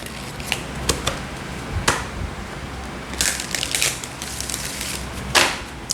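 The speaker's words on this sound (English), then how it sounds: "One more shuffle." A deck of tarot cards is shuffled in scattered bursts: sharp snaps and clicks, then a quick riffling flutter and a final burst, close by and with no talk.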